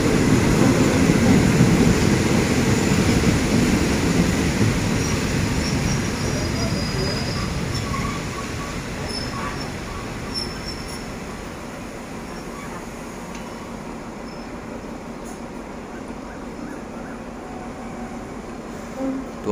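Ordinary train 211 pulling into Pak Nam Pho station in Thailand near dusk: a steady, loud rumble of rolling stock along the platform that eases slightly over time, with faint squeaks and clanks above it.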